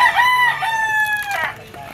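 A bull stag gamecock crows loudly and close, one long drawn-out cock-a-doodle-doo with a strained, wavering tail.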